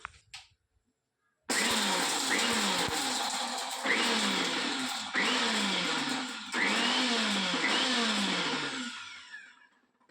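Close, loud whir of a kitchen mixer grinder blending masala with coconut, starting abruptly after a short silence and running in several surging pulses before winding down at the end.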